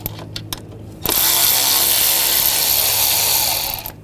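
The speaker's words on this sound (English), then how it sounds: "Use a T30 socket" A ratchet fitted with a T30 socket backs out a screw on a 2009-2017 Volkswagen Tiguan during engine water pump replacement. A few sharp clicks come first, then about three seconds of loud, steady mechanical whirring up close before it stops.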